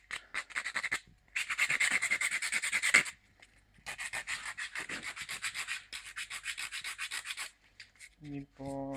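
Sandpaper rubs back and forth on a homemade headphone holder in bursts of rapid, close scratchy strokes separated by short pauses, ending with a few faint knocks.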